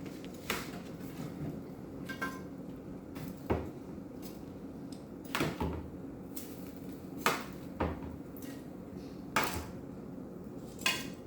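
Dishes and cutlery clink and clatter in a kitchen as crispy grilled chicken is transferred from a baking pan onto plates, with sharp scattered knocks spaced a second or two apart over a low steady background, no talking.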